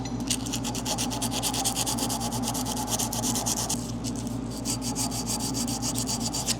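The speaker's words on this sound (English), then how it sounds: "I'll sand these little lead-ins." Sanding of the small lead-ins on waterjet-cut dies, a continuous close rasping scrub in quick back-and-forth strokes with a brief pause midway, over a steady machine hum.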